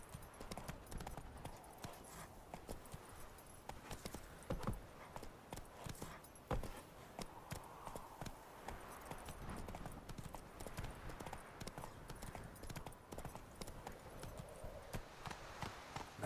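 Roach, a horse in The Witcher 3, gallops with rapid, rhythmic hoofbeats over ground, fairly close and continuous throughout.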